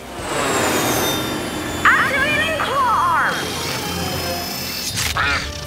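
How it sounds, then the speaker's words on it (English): A cartoon mother duck quacks in a few short bursts amid a busy animated rescue scene with whooshing effects and music, as characters talk over it. "move that duck mama someplace safe"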